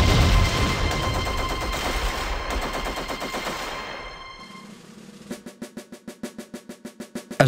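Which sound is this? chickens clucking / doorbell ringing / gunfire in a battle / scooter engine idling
gunfire in a battle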